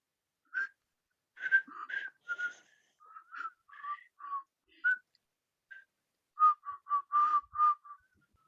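A person whistles a halting melody, a series of short clear notes in bursts with pauses between, fairly faint and alone.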